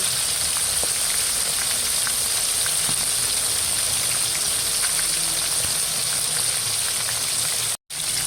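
Pakoy fish with thick skin sizzles in hot oil in a pan for dinner, a steady, close crackling hiss with scattered pops that drops out for an instant near the end.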